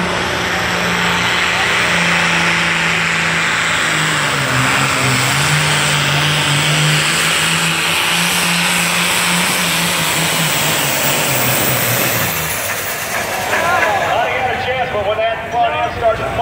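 A Deere Commander pulling tractor from Nebraska roars at full throttle down the track at a Rock Valley, Iowa pull, a loud sustained engine drone that shifts in pitch before falling away, with an announcer talking over it.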